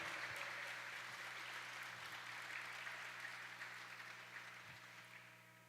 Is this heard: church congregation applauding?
yes